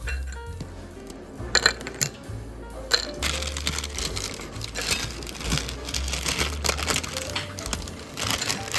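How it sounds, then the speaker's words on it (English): Cooled candied pecans broken apart into a bowl by hand, a close, busy run of crisp cracks, crinkles and clinking pieces dropping, irregular and continuous, with no talking. "you're just going to want to get in there and break those apart into a bowl"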